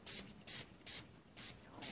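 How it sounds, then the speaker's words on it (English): Five short, bright hissing bursts of an aerosol spray onto handmade paper for bookmarks, evenly spaced with brief pauses between, close and fairly quiet. "So I'm just going to spray some on."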